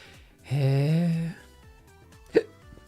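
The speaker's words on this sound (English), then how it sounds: "hiccup." One quick, sharp hiccup comes near the end, following a sustained vocal sound. It is brief and clear in an otherwise quiet indoor setting.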